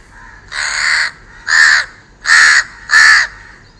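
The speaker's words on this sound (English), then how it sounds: "let's listen to the house crow." A house crow gives four harsh, nasal caws, loud and close, evenly spaced with short gaps between them and no other sound.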